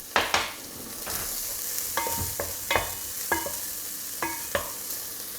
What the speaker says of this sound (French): Donc hop, directement dans le faitout, il est bien chaud. Ça va commencer tout de suite à rissoler.